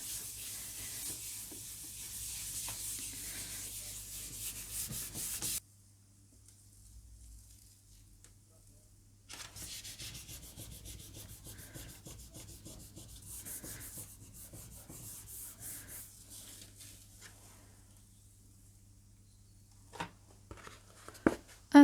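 Firm hand rubbing across paper laid on a gel printing plate, a steady close dry scuffing that pauses for a few seconds of near silence, then resumes and ends with a few sharp taps.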